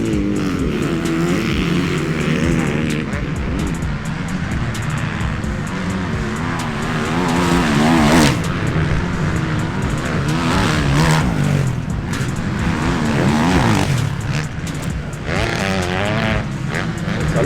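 MX2 motocross motorcycles racing at a British championship round at Lower Drayton, several engines revving and rising and falling in pitch as bikes pass, loud and continuous throughout.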